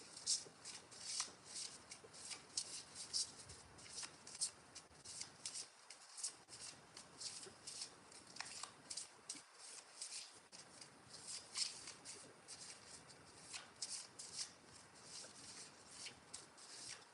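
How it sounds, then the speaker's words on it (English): Tarot cards being reshuffled by hand, a run of quick papery riffles and flicks repeating for several seconds, fairly close and soft, with two brief pauses, no talking. "let's reshuffle"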